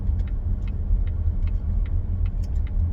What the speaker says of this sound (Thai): ก็เลยจะขับรถกลับบ้าน